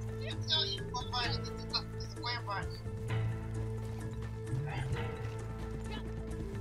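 Horse in the video game Red Dead Online clip-clops in a run with a neigh, the hoofbeats repeating over low game music while players talk.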